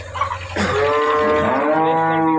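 A Jersey cow on a farm lets out one long, loud moo that swells and holds for about two seconds, close by, with a few fainter animal sounds and low farm noise before it.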